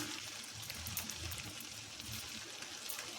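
A small splash of rose water and kewra water trickles into a pot of biryani, a faint, soft pour with light watery patter at low volume and no talking.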